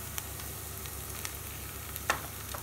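Onion frying with cumin and oregano in a pan, a steady low sizzle close by with a few faint stirring clicks and one sharper tap near the end.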